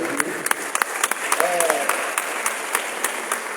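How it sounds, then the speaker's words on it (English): Audience applause at a Society of Women Accountants of Nigeria event, a steady patter of many hands clapping for an honoured mentor, with a voice briefly heard over it. "Let's clap for Dr. Ian."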